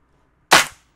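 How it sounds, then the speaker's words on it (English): A single warm clap sample from FL Studio, loud and full-bodied, with a sharp attack and a short decaying tail, alone against silence. "quite warm sounding clap sounds."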